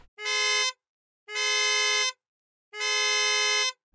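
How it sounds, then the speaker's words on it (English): A bright, buzzy two-stage horn on a Lucid Air car sounds three loud blasts in a regular rhythm, each about half a second to a second long, separated by silence. "I'm going with this Lucid with its 2-stage horn"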